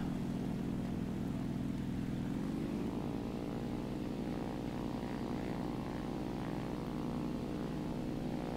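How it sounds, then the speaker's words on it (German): Propeller airplane engine droning in a flight simulator video game, a steady loud hum whose pitch shifts upward as the engine note changes, constant throughout with no talking. "Boah, das ist schon ein richtiges Flugzeug, das ich hier fliege."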